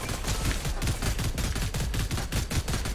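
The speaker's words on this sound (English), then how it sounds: "that's what happens right as you shoot the tires" Rapid automatic gunfire in a multiplayer video game match as a car's tires are shot out, dense rattling bursts close and loud, continuous throughout.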